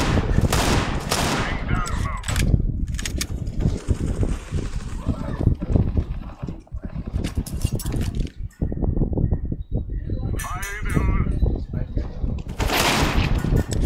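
Desert Eagle pistol shots in Counter-Strike on Dust 2 mid doors: sharp gunfire bursts scattered through the stretch, mixed with game noise and excited talk over the top.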